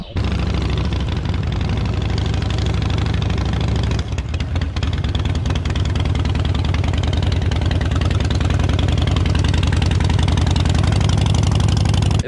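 Motorcycle engine idling steadily and loudly up close while the rider eases out the clutch and walks the bike along, a continuous low throbbing rumble with a brief dip near four seconds.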